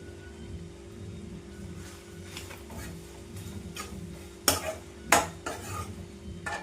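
Curry leaves and crushed garlic frying in hot oil, with a low steady sizzle and a few sharp spluttering pops near the end, plus light utensil clinks, fairly quiet and close.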